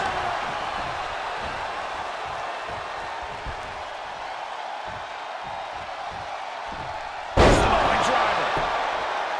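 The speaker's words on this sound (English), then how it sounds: "What a wrist clutch suplex." A wrist clutch suplex slam in the wrestling game WWE 2K22 lands as one loud, sharp impact late on. Steady crowd noise from the arena and ongoing commentary run underneath it.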